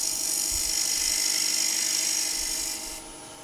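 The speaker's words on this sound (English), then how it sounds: "So we're just going to use a wide skew there just to give us a nice flat face." A wide skew chisel on a wood lathe squares the face and tenon of a pin-striped bowl held in C-jaws, a steady high hiss and whir running throughout, easing off near the end.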